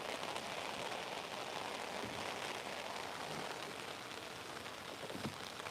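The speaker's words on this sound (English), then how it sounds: "Boy, this rain sucks, y'all." Steady rain falls outdoors on a lake around a fishing kayak, a soft, even hiss of drops on surfaces with no voices, faint and constant throughout.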